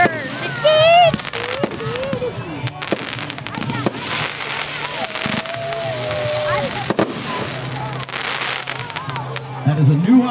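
Consumer fireworks go off outdoors in a rapid crackling barrage of pops and bursts, with whistling rockets rising, while people nearby cheer and exclaim throughout.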